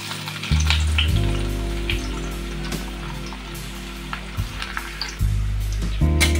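Chopped onion frying in hot oil with whole spices for a mixed dal gives a continuous, even sizzle at close range with small pops throughout, no voices.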